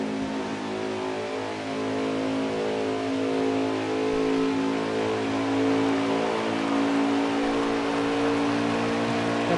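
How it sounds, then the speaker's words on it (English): A race truck engine held on the throttle in a racing video game, a loud, sustained droning growl with a steady pitch and a slight swell midway, with no talk. "let me switch back to his car and listen to him on the throttle"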